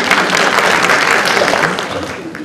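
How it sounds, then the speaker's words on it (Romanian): An audience applauds steadily at a World Health Day event in Galați, a dense, loud clapping from a hall crowd that slowly tapers off. "eu mă bucur de aceste aplauze"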